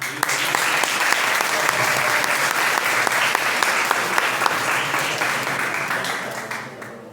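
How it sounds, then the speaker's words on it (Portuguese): Sustained audience applause at an academic week lecture on dry construction in a hall, a dense steady wash of many hands clapping for about seven seconds, fading slightly at the end, with no talk over it. "vou pedir para vocês uma salva de palmas"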